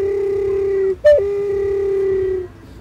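An owl-shaped clay ocarina sounds a low, steady hooting tone, briefly breaks upward in pitch, then settles back into the long held note before fading.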